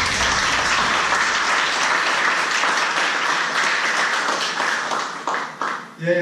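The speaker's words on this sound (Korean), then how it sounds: "이 대목에 박수 한번 치셔야 합니다" An audience at a lecture bursts into sustained applause, steady and dense, tapering off into a few scattered claps at the end.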